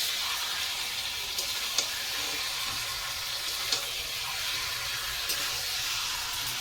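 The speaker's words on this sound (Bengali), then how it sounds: "এই যে দিয়ে এবার ভালো করে নাড়িয়ে চাড়িয়ে কষাবো।" Spiced meat being stir-fried in a pan, a loud continuous sizzle with a few sharp clicks from stirring, no one talking.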